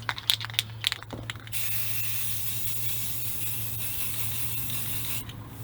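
Spray paint hisses steadily onto the inside dually wheel of a 1980 Ford F-350 service truck, a long close continuous blast after a few short rattling bursts, alone with no talk.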